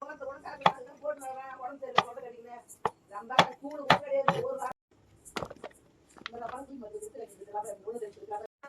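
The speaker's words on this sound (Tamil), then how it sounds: "சுத்தமான காளானை நறுக்கி எடுத்துக்கலாம்." Sharp, regular knife chops on a cutting board as mushrooms are sliced, sounding under a person talking steadily nearby, the blade strikes loud and close.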